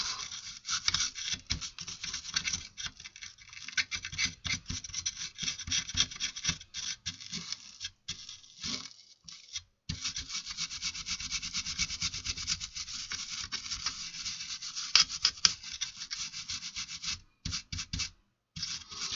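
A Bose car amplifier circuit board from an Audi is scrubbed clean with brisk, close rubbing and scratching strokes, an irregular rapid rasping that pauses briefly several times, with no voices.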